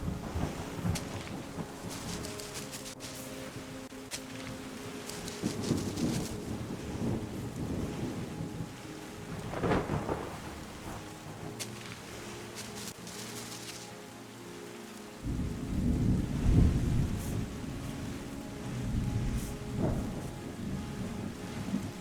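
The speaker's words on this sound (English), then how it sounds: "The rain makes it so much more nicer." Rain and thunder in the video game Terra Nil: a steady, dense hiss of rainfall with deep rolling rumbles that swell and fade, growing louder toward the end, with no voices.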